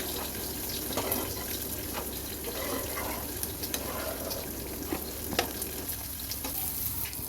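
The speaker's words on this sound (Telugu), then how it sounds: "లైట్ గోల్డెన్ కలర్ వచ్చేలాగా వేయించుకుందాము." Bitter gourd slices fry in hot oil over a flame, a steady close sizzle broken by occasional stirring scrapes and small pops, with no talking.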